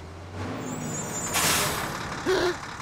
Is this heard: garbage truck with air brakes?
yes